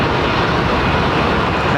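Boeing 747 cargo aircraft at London Heathrow Airport, its engines giving a loud, steady broadband roar that holds unbroken throughout, with no voices.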